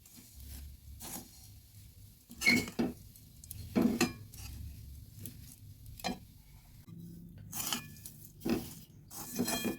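Intermittent scraping and clinking of a spoon stirring powdered sugar and milk powder together in a pan over medium heat, in short irregular bursts separated by quiet gaps.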